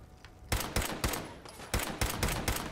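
Rapid bursts of gunfire and a heavy blast in the video game Fallout 4, during a fight with raiders at Corvega: several loud, sharp reports arriving in quick succession with a booming grenade-like explosion among them, up close with no talk.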